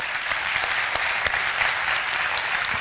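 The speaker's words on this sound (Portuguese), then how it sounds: "Palmas pro Biel." An audience gives speaker Biel a sustained round of applause. The clapping is dense, even and fairly loud, with crisp hand claps and no talking over it.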